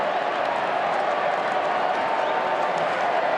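Dense, steady roar of a large football crowd at a wet AFL match between Fremantle Dockers and Collingwood, a continuous broadband cheer sustained throughout with no pauses or distinct voices standing out.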